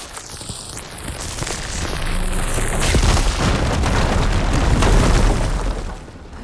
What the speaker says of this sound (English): Should be able to blow up that fire